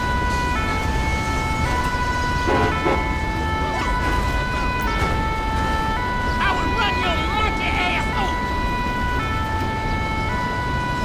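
A fire engine siren wails through heavy road noise at a serious motorway accident in GTA LSPDFR, a loud steady tone held over continuous traffic rumble, with people talking over it.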